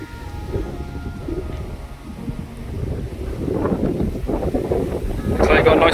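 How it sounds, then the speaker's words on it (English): Strong wind gusts across a carp fishing lake and buffets the microphone with a continuous rumbling roar that builds toward the end. People talk faintly underneath it. "The wind is just ripping across."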